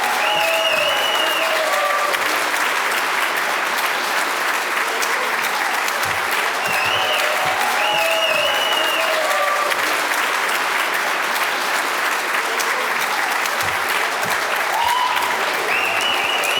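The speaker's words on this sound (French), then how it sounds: "je m'attends à un tonnerre d'applaudissements pour le chef du Bloc québécois, Yves-François Blanchet." Audience applause at a conference opening for the leader of the Bloc Québécois, a dense sustained wash of clapping with a few whistles and cheers, loud and continuous from start to end.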